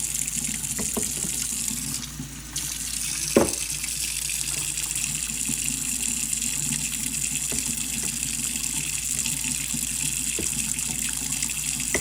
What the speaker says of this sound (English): And now we're slowly incorporating Warm warm water